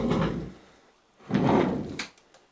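Kitchen drawer in an abandoned mansion sliding open and shut, two hollow wooden rumbles about a second apart, close by, the second ending with a light knock, with no talk.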